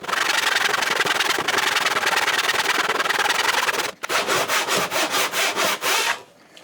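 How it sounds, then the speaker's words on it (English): A hand saw cross-cuts end grain in wood, its blade waxed with candle wax: close, loud continuous rasping strokes, then a short pause and a run of about eight quicker, evenly spaced strokes that stop as the cut goes through. "So now I've sawed that right through."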